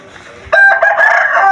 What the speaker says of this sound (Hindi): ब्लैक कलर का बहुत ही खूबसूरत मुर्गा है।